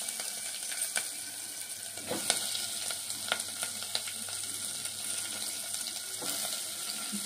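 Onion and green chilies frying in a pan for a Telugu okra stew, a steady soft sizzle with faint stirring clinks and scrapes throughout, no voices.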